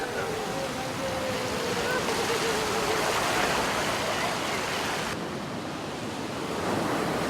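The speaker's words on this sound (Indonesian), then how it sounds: "Mereka berusaha menyelamatkan diri dari gelombang susulan yang lebih besar." High ocean waves crash continuously onto Kuta beach in Bali during a tidal surge, a loud, dense roar of surf and wind with no pause throughout.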